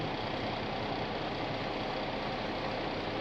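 A New Holland T8 410 tractor engine idles steadily during corn shelling, a continuous low rumble with no voices.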